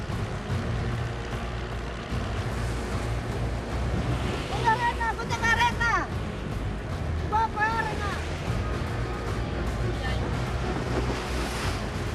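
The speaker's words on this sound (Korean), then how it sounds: "갑자기 파도가 심해집니다" Rough sea waves wash around a small traditional tuna-fishing boat off Sulawesi, with a constant loud churn and wind buffeting the microphone, and brief voices rising over the noise midway.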